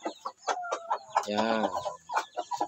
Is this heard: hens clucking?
yes